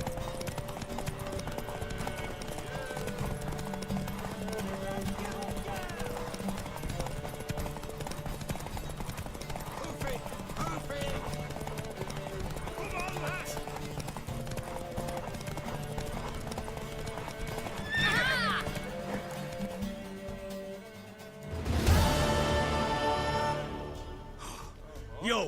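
Rhythmic clip-clop of a horse galloping in The Witcher 3: Wild Hunt runs steadily throughout, moderately loud, with voices talking over it and a louder burst near the end.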